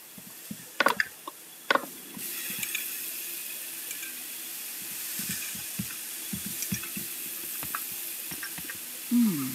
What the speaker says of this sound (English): So Adrian, come up here and repair the shower.